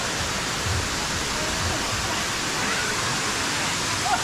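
Kuang Si waterfall in Laos roars as a steady, even rush of falling water, a dense wash of noise heard close and unchanging throughout.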